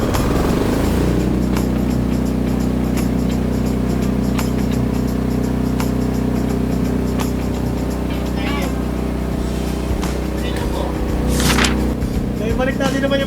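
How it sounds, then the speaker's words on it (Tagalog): A Philking PK10000STRA diesel generator starts up on its own and settles into a loud, steady low engine drone, running close by while someone talks over it. "yung generator na rin dapat kusang mabubuhay"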